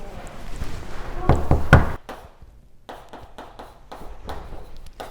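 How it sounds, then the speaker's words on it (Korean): Knocking on a classroom door, several firm raps in a quick cluster, then lighter scattered taps and faint background activity. "아 늦었으니 노크를 해야겠군"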